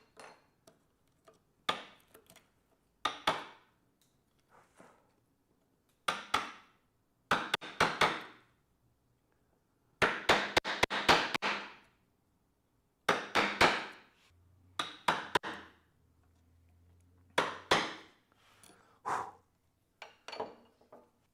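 A wide wood chisel is struck hard with a mallet while shaping the arm of a Morris chair. Loud, sharp blows land in irregular clusters with short pauses between them, close to the listener.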